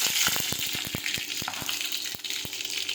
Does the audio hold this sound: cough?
no